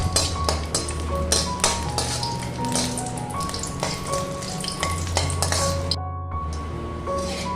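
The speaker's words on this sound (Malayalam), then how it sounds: "അപ്പം വെളിച്ചെണ്ണ ഒഴിച്ചു ചൂടായി വരുമ്പോൾ അതിലേക്ക് ഈ വറ്റൻമുളക് ചേർത്ത്" Dried red chillies fry in heated coconut oil, giving a bright, continuous sizzle dotted with light metallic clinks and taps from a utensil, which drops out briefly near the end before resuming.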